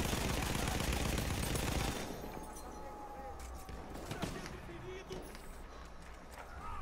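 Gunfire in the Battlefield 1 video game: a dense burst of game noise for the first two seconds, then scattered sharp shots and impacts, with a voice talking over the action.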